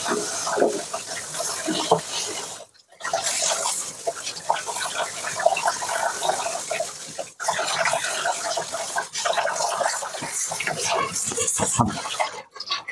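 A dirty washable plate is rinsed and scrubbed under running water, with steady splashing and trickling that pauses briefly a few times; close and fairly loud.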